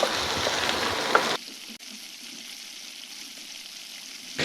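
Potatoes frying in a pan with fried onions, cooked until reddish, give a loud, busy sizzle for over a second, then a softer steady frying hiss until the end, with no voices.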